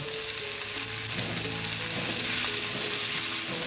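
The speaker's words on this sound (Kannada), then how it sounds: "ಇವಾಗ ಟೊಮೊಟೊನ ಹಾಕೋಣ." Tomatoes go into a pan of frying chillies for a quick Kannada rice dish, and a loud, steady sizzle fills the whole stretch, with soft stirring scrapes and clatter breaking through near the pan.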